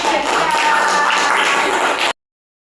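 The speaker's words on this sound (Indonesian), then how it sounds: "Beri tepuk tangan dulu untuk kelompok" Audience clapping for a student group during a teacher-training classroom session at a university in Yogyakarta, a dense burst of claps filling the room at close range for about two seconds, with voices mixed in, then cut off abruptly.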